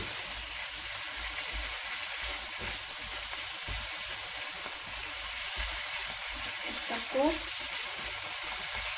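Pizza bread bites fry in a pan with a steady, soft sizzle and hiss that runs the whole time, and a brief stirring scrape comes near the end. A voice speaks a word in passing.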